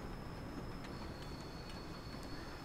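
A freight train in Train Sim World 2 runs through snow, producing a steady low rumble of wheels and rolling stock with a faint sustained high whine and light rhythmic clicking from the rails.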